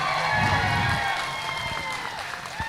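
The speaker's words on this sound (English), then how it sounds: "let's give a big round of applause to everybody here" Crowd applause and cheering at an Angora goat show and sale honoring the winners, a steady wash of clapping that fades slightly toward the end.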